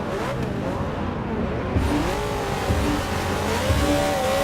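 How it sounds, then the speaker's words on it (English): Race car engine in Forza Motorsport 6 drones steadily throughout, its pitch rising and falling with revving as the car accelerates and shifts, with a few low thumps underneath. "Just want to hear that engine."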